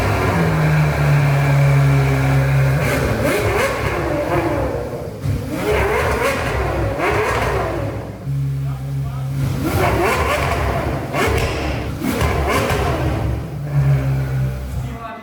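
Ferrari F12 V12 with a modified exhaust revving repeatedly, loud and close, with surging rev bursts separated by steady idle drones, and a person talking over parts of it.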